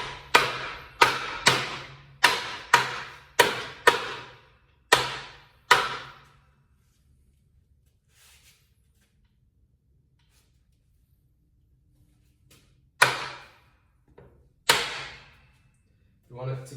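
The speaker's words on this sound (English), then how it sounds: "Either rubber mallet or a wooden hammer." A rubber mallet tapping a part onto dowel pins on a Honda K20 engine block bottom end, about ten sharp evenly spaced knocks close up, a pause, then three more blows.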